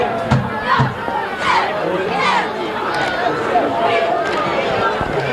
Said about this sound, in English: Little cheering done by the cheerleaders.